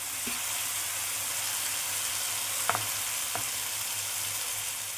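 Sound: frying pea curry on high heat

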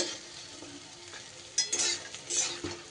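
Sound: lentil fritters frying and lifted from the wok

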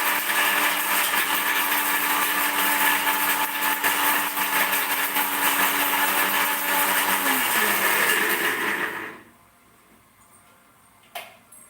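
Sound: mixer grinder grinding coconut for curry

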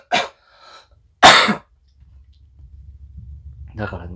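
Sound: coughing

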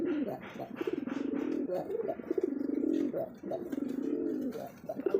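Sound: desi Rajgolla pigeon cooing

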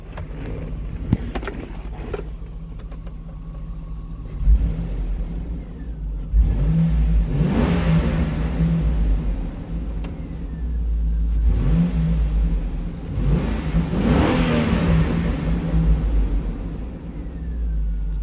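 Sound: 2003 Hummer H2 Vortec V8 engine revving

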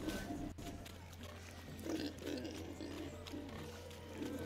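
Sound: pigs grunting in video game The Witcher 3: Hearts of Stone

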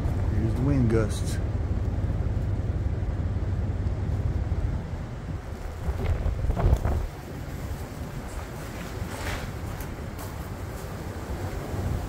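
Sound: wind gusts outdoors on the Appalachian Trail

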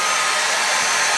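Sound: Arçelik hair dryer drying a child's hair

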